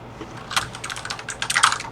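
Quick, irregular clatter of keys on a computer keyboard as a name is typed into music production software, close and fairly faint, with uneven bursts of keystrokes.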